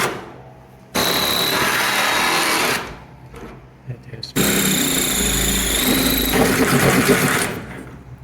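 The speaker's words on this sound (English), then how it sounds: "we're gonna have to use a drill" A power drill bores into the brake pedal of a 1975 Chevrolet C10, running loud and steady in two long bursts with a short pause between them.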